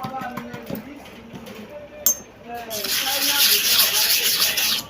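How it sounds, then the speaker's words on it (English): Someone rubs a treatment across the surface of a sharpening stone used for cordless clipper blades. A few faint taps and scrapes come first, then a steady, close rubbing swish takes over for the last couple of seconds. "So let me treat the surface of the stone before we go."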